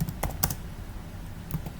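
Command being typed on a computer keyboard during a ransomware simulation demo: a few scattered, close keystroke clicks with short pauses between them, no talking.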